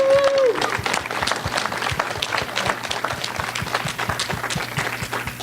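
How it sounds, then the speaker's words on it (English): An audience at an evening community meeting claps in sustained applause, with many hands producing dense, lively clapping at moderate loudness after a brief tone at the start. "Let's give her a round of applause"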